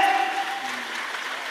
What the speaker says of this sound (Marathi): विटेवरच्या मालकानं टाळ्या वाजवा